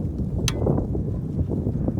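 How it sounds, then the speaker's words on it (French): Wind blowing outdoors in a garden, a steady low rumble of buffeting across the microphone with one brief sharp tick early on. "Il y a un peu de vent"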